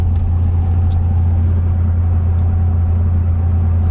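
A Corvette engine that needs a tune-up runs at a steady low idle, a loud continuous close rumble with no pauses.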